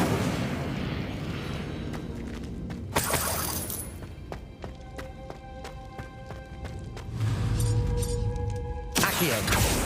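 An Incendio fire spell is cast in Hogwarts Legacy, a burst of crackling, whooshing magic amid sharp shattering impacts and layered game effects, loud and dense for about ten seconds.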